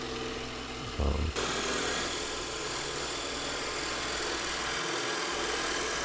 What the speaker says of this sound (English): Now turning on the lathe, use different turning tools to get it down to shape and the right diameter.